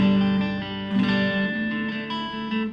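A Busker's Stratocaster electric guitar rings out sustained notes and chords in a bright, clean tone with a light shimmering effect; there are no voices.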